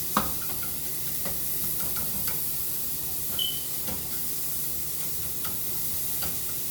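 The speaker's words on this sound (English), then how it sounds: "I already cut it all in small pieces, and I'm gonna put it in here. I'm gonna cook it" Small cut pieces of bacon frying in a pan, a steady soft sizzle with scattered light pops and ticks throughout, fairly quiet and with no talking.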